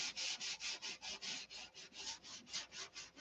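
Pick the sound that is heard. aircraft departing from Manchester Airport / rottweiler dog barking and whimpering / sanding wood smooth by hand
sanding wood smooth by hand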